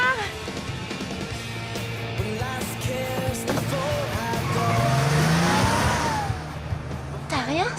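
A car skids with tires squealing amid a street scene in a romantic comedy, a rising screech over engine noise and music before it cuts off, with voices and background sound around it.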